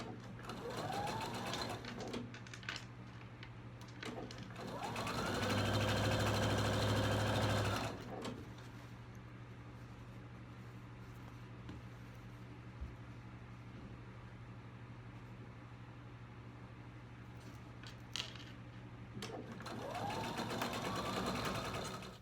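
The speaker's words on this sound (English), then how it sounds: "I just put a stay stitching around the outside" A sewing machine runs stay stitching around the edges of Dresden plate quilt pieces, with several close bursts of steady whirring, the longest and loudest in the middle, separated by quieter pauses and handling noise.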